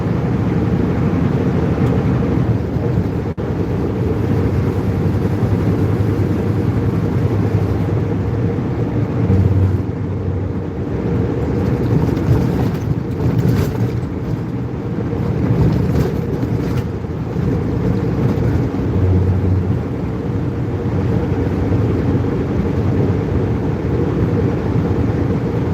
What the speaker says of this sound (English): It's got 600 horsepower. It's a Cummins engine.